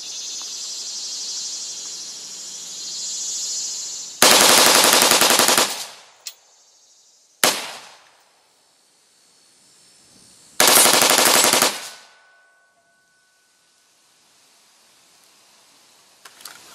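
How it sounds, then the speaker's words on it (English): Bump-fired standard AR-15 rifle shooting at a steel target outdoors: two long, loud rapid-fire bursts about a second and a half each, plus a brief shorter burst between, over a steady insect-like background hiss, no talking. "how inconsistent of a shot one of these bump fires makes a standard AR-15"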